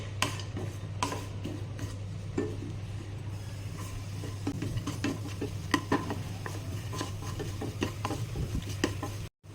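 Cashews and almonds sauté in ghee in a pan, a soft sizzle under repeated scraping and clinking stirs of a spoon that come close and irregular, ending abruptly, with no talking.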